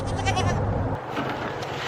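A goat bleats loudly and close, a long wavering call, followed by fainter bleats and farmyard noise.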